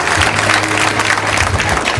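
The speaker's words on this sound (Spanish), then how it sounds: "Más fuerte el aplauso para Mario Rivera." Audience applause at a queens' coronation pageant in Santiago, a steady dense wash of clapping with a low musical hum underneath, filling the whole short stretch without a break.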